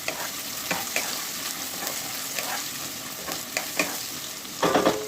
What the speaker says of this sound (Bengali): নুন দিয়ে এটাকে নেড়ে চেড়ে নেবো।